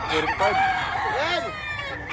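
A fighting rooster at a Bocaue, Bulacan market crows loudly and close, with a wavering, rising-and-falling call under busy market chatter as people bargain nearby.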